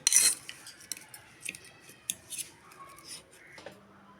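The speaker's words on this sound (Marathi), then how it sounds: "हे आता काढून घेतलेले लसूण स्मॅश करून घेऊया" Roasted garlic cloves are smashed in a bowl for cheesy garlic bread, with a sharp metal clink at the start followed by scattered light taps and scrapes of utensil against the bowl.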